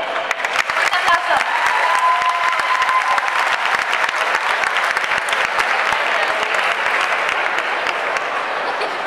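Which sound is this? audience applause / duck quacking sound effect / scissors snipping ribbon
audience applause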